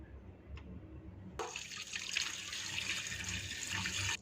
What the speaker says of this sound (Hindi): पानी इसमें 1000 ml जाएगा जी।